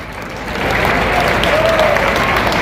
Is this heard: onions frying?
no